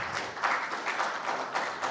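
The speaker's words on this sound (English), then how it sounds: "So one more round of applause," A conference audience at a cybersecurity and digital identity symposium gives a steady round of applause, dense and even for the full two seconds, with no voices standing out.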